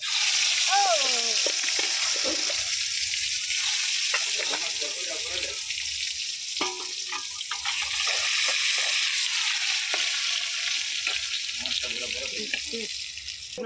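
Potato chips frying in oil in a pan, a continuous loud bubbling hiss with scattered clinks and scrapes as they are lifted and more added, with a voice heard briefly at points.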